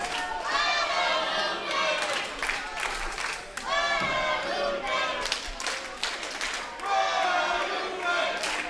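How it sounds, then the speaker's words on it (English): A wrestling crowd at a no-holds-barred tag team match chants for the Guadalupes, a loud, steady rhythmic roar with clapping and cheers filling the space, while a commentator talks over it. "the fans now chanting for the Guadalupes"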